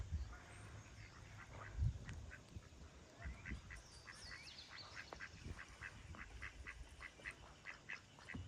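A duck quacks near a lake during bass fishing, with a few soft, distant calls heard faintly over quiet outdoor ambience.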